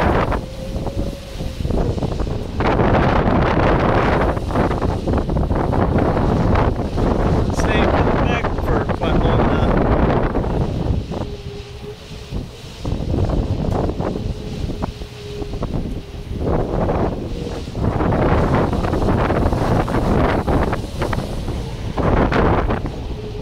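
Strong gusty wind buffeting an iSta Breeze i2000 small wind turbine as its furling mechanism works, heavy rushing surges that rise and fall, with a faint steady whirring tone at times.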